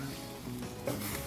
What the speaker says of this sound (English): it's starting to get seared now